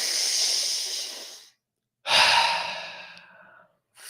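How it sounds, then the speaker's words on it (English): Deep, controlled breaths during a guided recovery breathing exercise: two long, airy exhalations that fade out into silence, a pause between them, then the start of another breath, close and clear with no talking. "Continue breathing for 5 more breaths now."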